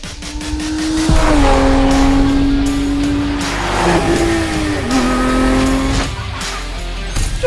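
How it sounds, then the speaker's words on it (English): A new Lotus Emira sports car drives hard in the rain, its engine revving up and down through rising and falling tones with tyre noise and spray, loud and close with no talk over it. "behind the wheel of the car that literally everyone is talking about. It's the new Lotus Emira."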